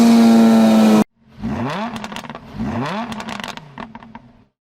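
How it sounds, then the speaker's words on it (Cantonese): A lightweight rear-drive Ariel Atom 4 with a Honda Civic Type R engine holds a steady drone, cuts off, then revs through repeated rising surges as it accelerates, close and loud. "幾百公斤後驅，幾百匹 Aerial Atom 4"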